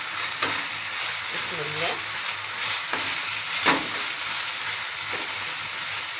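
Onions sautéing with meat in a pan, a steady broad sizzle with scraping stir strokes; a brief voice speaks over it.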